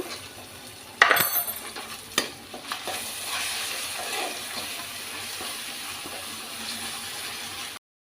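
Ginger garlic paste drops onto browned onions and bursts into a loud sizzle that settles into steady frying hiss, with a couple of stirring knocks, before cutting off abruptly.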